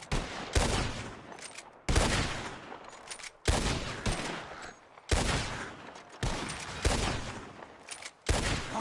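Gunfire at flying birds in Red Dead Redemption 2: six loud, separate shots spaced about a second or more apart, each with a sharp attack and a long decaying tail.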